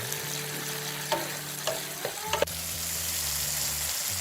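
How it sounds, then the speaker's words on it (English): Tomatoes fry in a pan for pepper chutney with a steady, close sizzle, and a spoon stirs and scrapes a few times before the hiss settles into an even crackle. "So we have to fry this really well."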